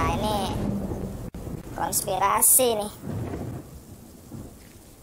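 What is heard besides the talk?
rain and thunder in the video game Death Stranding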